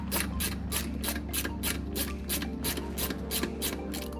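A long bolt is threaded into a rock slider mount on a Jeep JLU during a Trailbreaker slider install, giving a steady run of about a dozen rhythmic, close ratcheting clicks with no talking.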